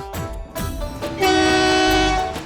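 A train in a dubbed movie scene rumbles along, then its loud, sustained horn blares close by over the rolling rail noise.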